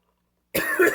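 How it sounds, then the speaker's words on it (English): After a moment of silence, a person gives one abrupt, harsh cough, set off by inhaling Pepsi Fire soda. "If you inhale that, it will make you cough, just like Mountain Dew Flamin' Hot."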